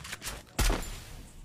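A single sharp gunshot cracks out mid-clip in a Free Fire match and rings briefly against quiet game ambience.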